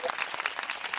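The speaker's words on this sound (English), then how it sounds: "Round of applause." Short round of applause dropped in as a sound effect: a quick burst of scattered clapping with uneven hand strikes, fairly faint and lasting about a second.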